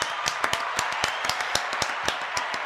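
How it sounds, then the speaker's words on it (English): A studio audience at a comedy round-table show bursts into applause as a comedian is introduced: dense, steady clapping with sharp individual claps standing out, fairly close and continuous throughout. "And the crowd goes nuts."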